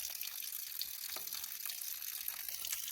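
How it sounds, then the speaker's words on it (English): Outdoors on a hiking trail, water is squeezed through a small portable filter as a faint, steady hissing trickle of flowing liquid, close by and continuous, with no speech. "After you hook your filter up, you squeeze, and that is fresh water coming out."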